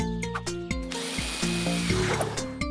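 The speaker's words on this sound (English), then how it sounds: "Well, that's a drill." A power drill runs in a children's cartoon about trucks and cars, whirring loudly and steadily as its pitch steps up and down in short bursts, with no talking.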